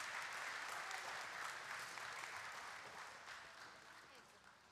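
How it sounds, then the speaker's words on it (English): Applause from a church congregation fills the sanctuary as children leave for their own service, steady dense clapping throughout that slowly tapers toward the end. "Let's please give them a round of applause as they go out."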